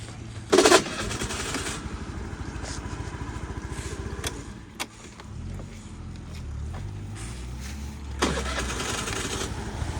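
A Honda Dio AF-68 fuel-injected scooter engine starts with a loud burst, then idles steadily with a buzzing rumble, revving briefly again near the end.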